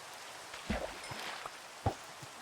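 Steady rain falls during an outdoor fishing session, a soft continuous patter with a few louder drops landing close by, quiet and with no voices.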